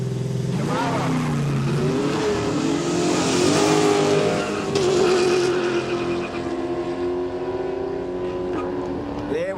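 A big Camaro launches at a no-prep drag racing event, its engine revving hard and sweeping up in pitch as the car pulls away, loud at first and then fading with distance.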